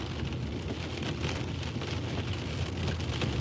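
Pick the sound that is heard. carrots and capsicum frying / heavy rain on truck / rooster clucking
heavy rain on truck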